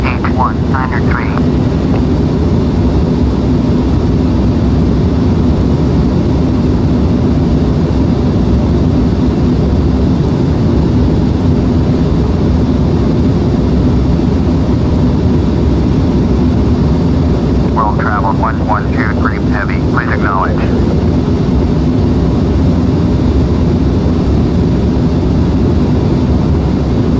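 A Boeing 747-400 in Flight Simulator X roars at a steady, loud pitch as it takes off from runway 17. Short bursts of radio chatter sound near the start and again around the two-thirds mark.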